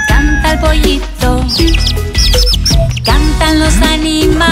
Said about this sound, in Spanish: y canta el pollito.